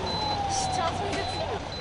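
An ambulance siren wails at the scene of a road accident involving a city bus stopped at a red light, sustained tones sweeping over constant traffic and street noise as the vehicle pulls away.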